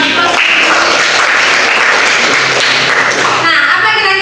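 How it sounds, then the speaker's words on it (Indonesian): Applause from a classroom audience at a teacher-training session, a dense, loud burst of clapping filling the whole stretch with steady energy before thinning slightly near the end. "Beri aplaus."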